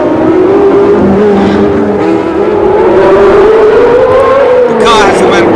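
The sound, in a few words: V12 racing car engine screaming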